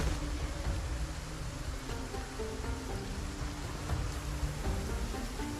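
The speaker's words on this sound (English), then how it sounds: "It is raining intensely right now." Heavy rain falls in the zombie survival game Project Zomboid, a dense, steady hiss and patter that stays loud and continuous throughout, with no voices.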